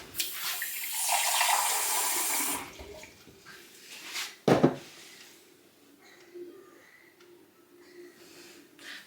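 Water is poured into a bowl of salt for salt dough, a bright rushing splash for about two and a half seconds, then a clunk and quieter handling sounds nearby.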